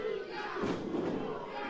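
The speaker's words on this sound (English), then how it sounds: "Crowd chanting for new guy, new guy." A crowd at a wrestling show chants together, a loud roar of voices that swells in the middle and then carries on steadily in the arena.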